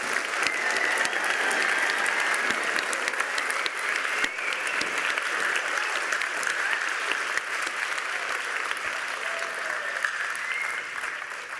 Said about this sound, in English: Let's give everybody a massive round of applause.